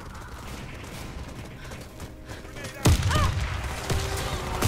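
Gunfire and a grenade blast from the shooter video game Warface: quiet mechanical clicks build to a sudden loud burst near the middle, followed by a dense, sustained rattle of shots through the rest.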